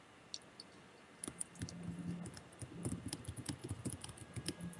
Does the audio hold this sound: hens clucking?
no